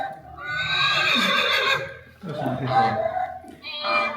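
A horse-like farm animal whinny played on a Soundbeam in a music session, two long loud neighing bursts and a shorter third, with no voices over them.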